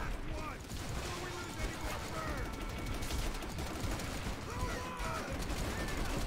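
Bursts of rifle and machine-gun fire in the WWII shooter Call of Duty: World at War, crackling at moderate distance through a busy, low battle rumble with mechanical clatter.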